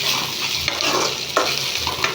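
Okra fries in a pan for a chutney, giving a dense, continuous close sizzle with a couple of soft stirring scrapes over about two seconds, and no one speaks.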